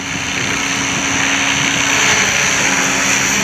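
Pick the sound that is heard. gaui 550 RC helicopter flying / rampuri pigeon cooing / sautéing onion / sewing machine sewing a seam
gaui 550 RC helicopter flying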